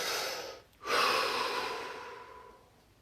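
Slow, relaxed breathing in a quiet room, with one long steady breath, a brief pause and then another drawn-out breath that fades gradually.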